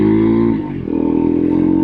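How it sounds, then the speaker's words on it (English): A Husqvarna Svartpilen 401 motorcycle engine revs close by, with a steady loud idle that dips briefly and then climbs back up to a strong, sustained rev. No one speaks. "This is a sweet motorcycle"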